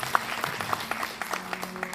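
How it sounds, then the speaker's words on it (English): Applause from an audience at a faith event, a steady dense patter of many hands clapping with no talk over it. "Round of applause"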